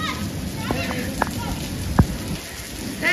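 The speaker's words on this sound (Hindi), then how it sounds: "बहुत तेज बारिश हो रही थी" Heavy rain falls in Karachi as a steady hiss of drops on surfaces, with scattered louder drips and splashes close by and people talking faintly in the background.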